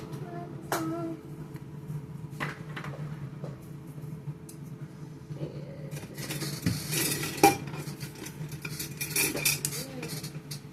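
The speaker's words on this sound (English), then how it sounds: "Gonna mix these dry ingredients, y'all." Dry ingredients, herbs and ranch seasoning being stirred in a bowl with a utensil, soft scraping and clinks of cutlery against the dish, close and fairly quiet.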